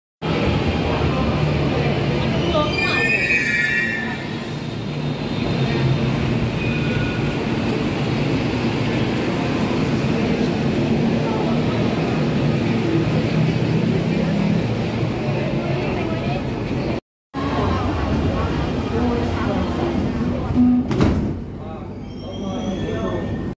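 A Hanoi metro train rumbles steadily with broadband rolling noise and brief squeals, nearby and loud, with a short dropout and a sharp bang near the end.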